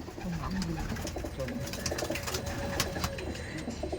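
Madrasi tournament pigeons coo at a loft in Dum Dum, soft repeated low calls amid rustling and faint background noise, with no clear speech.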